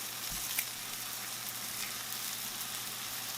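SPAM and egg scramble in a frying pan with a soft, even sizzle, quiet and close, and a faint tap or two of stirring near the start.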